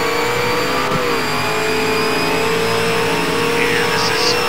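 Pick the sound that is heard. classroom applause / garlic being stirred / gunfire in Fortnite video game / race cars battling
race cars battling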